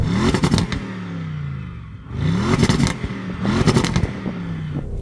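Close engine revving of an older-generation Audi RS6 in repeated bursts, each rising and falling in pitch with a rough, raspy roar and slight backfire pops, separated by brief quieter idle moments.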